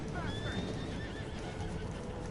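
A horse in the video game Red Dead Redemption 2 gives a loud, wavering whinny over hoof clip-clop and game ambience.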